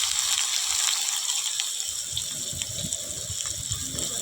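Onions hit hot oil with cumin and sizzle steadily in a pan, a close, continuous bright hiss with scattered crackles and pops.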